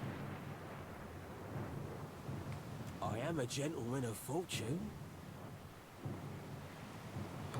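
Steady rain and low rolling thunder of a storm in the game Pillars of Eternity II fill the background throughout, while a voice speaks over the middle of it.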